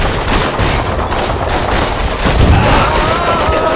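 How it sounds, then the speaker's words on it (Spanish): Dense machine gun fire rattles continuously in the World War I battle at Verdun in the video game Men of War, with overlapping bursts and explosions forming a loud, unbroken barrage. "Hay una ametralladora allí."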